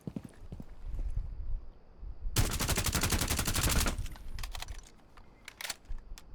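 Sledge's gun fires in Rainbow Six Siege during a test: a dense, loud automatic burst of about a second and a half stands out between quieter clatter and shuffling, followed by a few scattered clicks.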